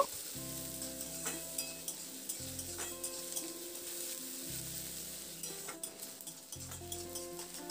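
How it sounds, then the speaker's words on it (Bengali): Onion and garlic paste fries in a pan, a steady sizzle under repeated scraping strokes of a spoon stirring against the metal, close and fairly quiet. "এবার রসুন পেস্টটা দিয়ে পেঁয়াজের সঙ্গে একটু নাড়াচাড়া করে ভেজে নেব"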